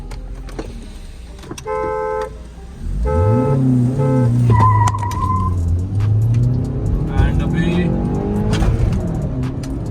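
A Honda Accord and a Skoda Octavia launch side by side in a drag race, engines revving loudly and climbing in pitch through the gears as they pull away, with a voice heard briefly.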